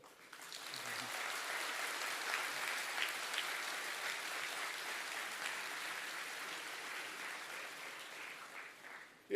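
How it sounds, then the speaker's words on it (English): A graduation audience at a Singapore university business school commencement cheers and applauds, a steady dense wash of clapping that is fairly distant and soft, swelling briefly and holding for several seconds. "let's give a big cheer."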